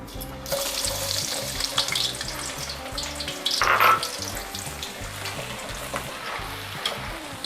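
Garlic fries in hot oil with a strong, continuous sizzle and bubbling, marked by stirring scrapes and a brief louder burst midway, with no talking.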